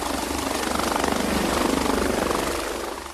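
A helicopter passing overhead during a water rescue, its rotor chopping in a steady, rapid rhythm over a loud engine roar that fills the whole stretch and eases slightly toward the end, with no voices.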